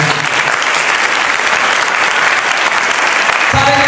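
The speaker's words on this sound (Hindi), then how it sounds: "खुदा की साथ के लिए एक जोरदार ताली" Loud, sustained applause from a large church congregation, dense clapping that continues evenly throughout.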